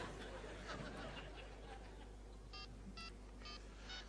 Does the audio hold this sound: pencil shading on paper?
no